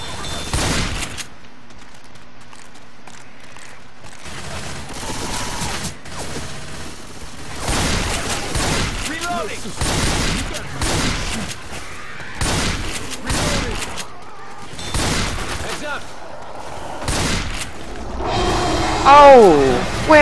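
Gunfire in a multiplayer shooter video game, with repeated bursts and single shots at varying distances mixed with explosions and mechanical clatter, heard under frequent excited talk between players.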